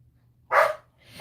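A dog gives one short, close bark, and a second bark is just beginning as the sound cuts off, with near silence between them.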